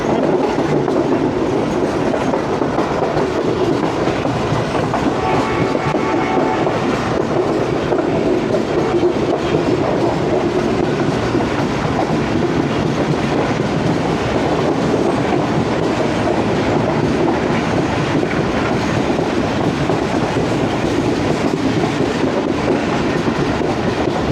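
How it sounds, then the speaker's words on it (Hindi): The Tezgam express rolls on its rails between Rawalpindi and Lahore, a loud, unbroken rumble of wheels and carriages with faint rhythmic clatter, heard from on board the train without pause. "ये तेज़गाम है और दीना पे नहीं रुकती"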